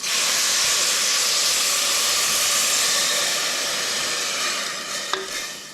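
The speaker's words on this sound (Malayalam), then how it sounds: "അത്യാവശ്യം എല്ലായിടത്തും ആ എണ്ണയും നമ്മൾ ഇട്ട മസാലകളും എല്ലാം ഒന്ന് പിടിക്കുന്നത്ര ഒന്ന് ഇളക്കും" Potato rice made from ration rice is stirred in a pan with oil and spices, giving a continuous close sizzle and hiss with soft scraping, then a small clink near the end.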